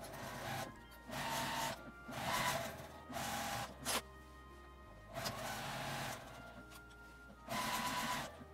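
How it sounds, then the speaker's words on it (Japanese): A sewing machine stitches the seams of a zippered fabric shoulder bag in several bursts lasting a second or so, with brief pauses between them. The close, mechanical whirring runs alone without talk. "表側も同じように縫います。"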